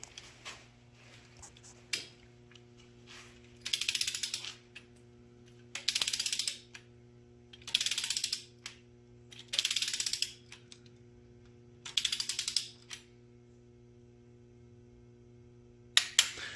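A ratchet torque wrench clicks in six short bursts with brief pauses while LS engine head bolts are tightened to 22 foot-pounds, a steady low mechanical hum running underneath in a quiet garage.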